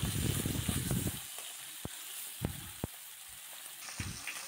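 Pabda fish frying in oil while being turned makes a soft sizzle, with a burst of bubbling at the start and then a few sharp pops and clicks, close and fairly quiet, no speech.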